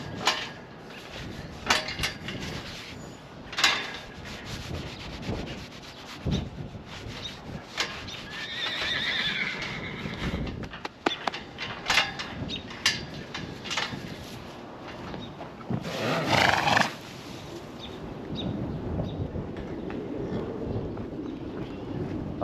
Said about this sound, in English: Oh yeah, I remember the name of this horse.